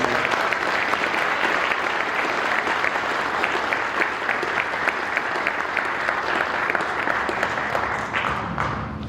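A room full of people at a welding banquet applauds award winners, dense sustained clapping that stays loud and even from start to finish without letting up.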